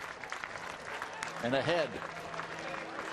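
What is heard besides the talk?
baseball crowd cheering with bases loaded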